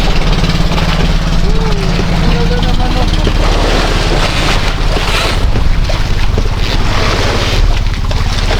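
A fishing boat's motor drones steadily on the water off Baler, loud and continuous, with wind buffeting the microphone and surf in the background.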